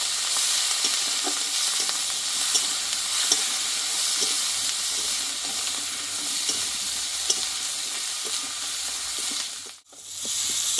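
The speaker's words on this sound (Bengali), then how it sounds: "এই মশলাটা ভালোভাবে একটু কষিয়ে নেবো আমি" Ginger, tomato, salt and turmeric powder sautéing in a pan, a steady close sizzle with scattered scraping stir clicks throughout, briefly cut near the end.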